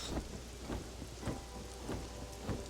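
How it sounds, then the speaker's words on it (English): Steady rain pours in the Pokémon Pokopia video game, a soft, even hiss broken by regular, low, thunder-like thumps roughly every half second, with no talking. "Well, it is raining."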